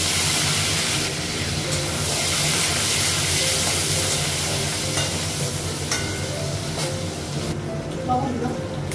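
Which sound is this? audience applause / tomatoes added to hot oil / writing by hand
tomatoes added to hot oil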